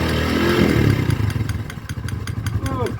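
Motorcycle engine running with an irregular knocking fault, a steady mid-pitched idle rhythm with clattering taps close by, voices talking over it.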